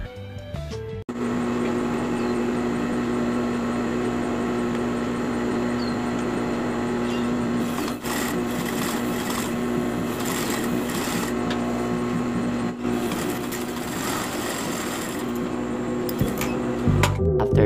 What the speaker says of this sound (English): Next is to top stitch that open edge.